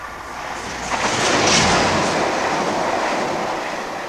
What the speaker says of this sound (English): This train is crossing Chat Moss, 4 miles of marsh near Manchester.